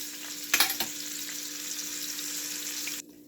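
Meatballs frying in a pan give off a loud, steady sizzle with a few sharp spits and pops near the start, the hiss stopping abruptly just before the end.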